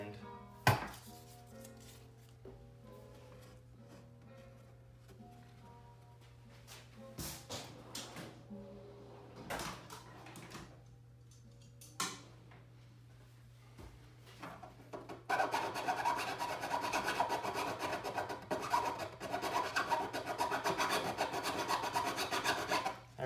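Metal filing close up on the fret ends of a classical guitar: scattered short rasping strokes, then a dense run of rapid back-and-forth scraping, with a faint steady hum underneath.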